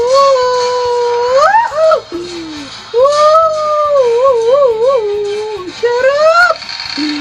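Dogs howling in the horror video game Alice Madness, set in a mental hospital: loud, close, wavering howls rising and falling in long drawn-out phrases, broken by brief pauses and yelps.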